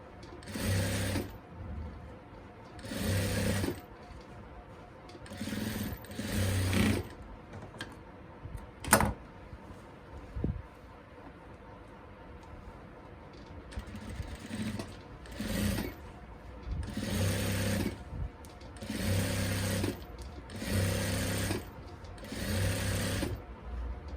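A sewing machine stitches a salwar, running in a series of short rhythmic bursts of rapid clattering separated by pauses, close and clear, with a sharp click midway and no talk.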